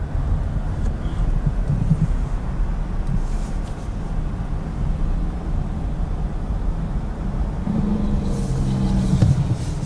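A 2019 Volkswagen Jetta SEL Premium makes a tight low-speed turn, its engine and tyre rumble a steady low drone from inside the cabin, with faint wind buffeting over it.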